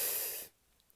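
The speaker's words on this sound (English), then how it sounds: "So take a big deep breath in" One deep breath in is drawn as a loud, close airy hiss for about half a second, then stops abruptly into near silence.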